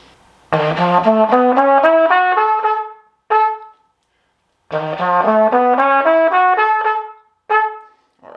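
A trumpet plays a slow stepwise run of notes twice in a row, each pass ending with a short separate note and a pause.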